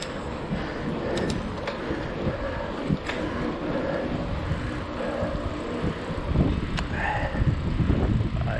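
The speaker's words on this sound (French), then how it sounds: "Il y a du vent, il y a du vent," Wind gusts and rumbles against the microphone, a continuous blustery roar with a few sharp knocks, and no talking.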